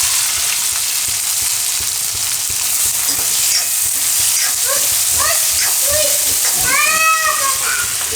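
Onion frying in oil with garlic and asafoetida, a steady close sizzle with stirring scrapes, while someone talks over it and a few high meow-like cries rise in the middle.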